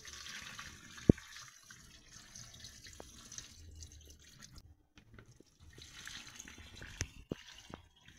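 Plain water poured while making lettuce agua fresca with sliced lettuce and orange slices, a low faint trickling and splashing running steadily for several seconds, with a few brief clinks over it.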